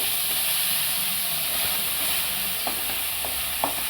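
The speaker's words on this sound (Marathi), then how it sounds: "तीनशे ग्राम पनीर टाकल्याने ते आपण चांगलं परतून घेऊ" Grated paneer sautés in a hot kadhai over medium flame, giving a steady soft sizzle and hiss with a few light scraping stirs toward the end.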